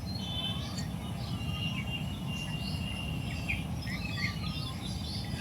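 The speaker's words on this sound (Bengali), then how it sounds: "খুব সুন্দর পাখিটা ডাকতেছে।" Bird calling outdoors in a rural yard, faint chirps and whistles scattered over a steady low rumble of background noise, no talking.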